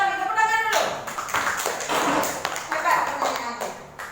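Classroom students applaud together, a burst of many overlapping hand claps that rises and stays lively for several seconds. Voices mix in underneath.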